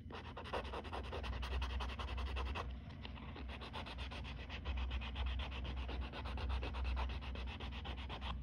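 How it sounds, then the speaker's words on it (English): Gentle buffing of a clear dip powder layer on nails makes a steady, close scratchy rubbing that runs continuously in quick strokes, with a brief lull partway through and no speech. "when we're buffing, we are only taking off clear dip powder"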